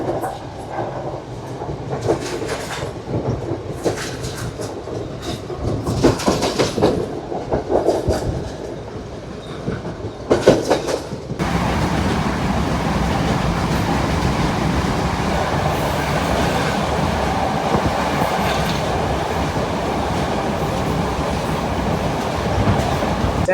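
A train pulls out of Beruwala station in Sri Lanka, first with scattered clunks and rumbles, then a steady, loud clattering roar of wheels on rails that continues unbroken once it is moving.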